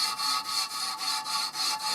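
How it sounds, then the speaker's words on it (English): Abrasive tape rubbed back and forth across a bent, scratched brake lever head, giving a steady rhythmic rasping scrape with about seven even strokes in two seconds, close and fairly loud with no talk. "It is quite easy to file away at it."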